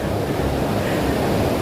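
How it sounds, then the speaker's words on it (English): Loud, strong ocean waves surging in a constant dense wash of surf, close and powerful, with wind-like rushing noise and no voices over it. "the ocean is so loud and strong today"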